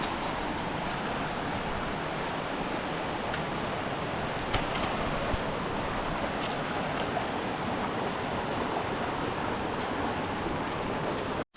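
A river flows in a steady, loud, broadband rush near a Mangyan community, with faint ticks and knocks in the background and no talking.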